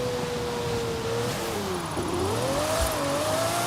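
A Lamborghini Diablo SV supercar engine in Forza Horizon 5, driven with a steering wheel while drifting: a steady, moderately loud engine drone whose pitch sags and then climbs again as the revs change, heard alone without talk.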